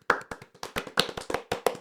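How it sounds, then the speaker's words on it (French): Small group applauding for podcast hosts, a sparse, uneven run of distinct close hand claps, about a dozen sharp strikes over under two seconds, fairly quiet and dry. "On peut applaudir pour Alexandre"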